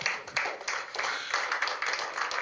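Crowd clapping at a political gathering in Nigeria for three chairmen, a dense steady round of applause lasting a couple of seconds without voices.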